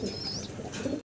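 Domestic pigeons at a seller's loft coo in low, rolling murmurs, with a thin chirp-like tone early on, steady for about a second before cutting to silence.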